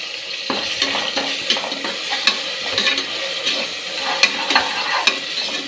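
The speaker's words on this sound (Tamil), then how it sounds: "அடி பிடிக்காமல் நல்லா இந்த மாதிரி நல்லா வதக்கி விடுங்க" A spoon stirs yogurt into mutton biryani masala frying in a pan with ginger-garlic paste, giving a close sizzle with repeated scraping and clinking strokes in a regular rhythm, with no talking.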